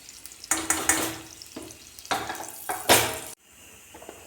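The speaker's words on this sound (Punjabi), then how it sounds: "ਗੈਸ ਤੇ ਮੈਂ ਕੜਾਈ ਰੱਖਤੀ ਹੈ ਹੁਣ ਇੱਕ ਚਮਚ ਪਾਵਾਂਗੇ ਦੇਸੀ ਘਿਓ" Desi ghee heated in a kadai on a gas stove for jeera rice gives short bursts of crackling sizzle with stirring noises in between. The sound is close and moderately loud, then drops to quiet.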